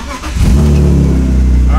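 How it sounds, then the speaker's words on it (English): A BMW E36 328i with the M52 inline-six cranks briefly and catches, settling into a loud, steady idle close by. "Let's go ahead and crank this thing on, see how she sounds."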